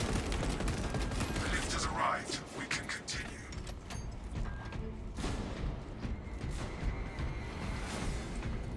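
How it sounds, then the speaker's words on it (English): Rapid gunfire from a relic pistol in the video game Darktide sounds in several quick bursts, mixed with mechanical clatter while a voice talks over it. "How come that relic pistol could do quick gunshots but can only fully charge to shoot?"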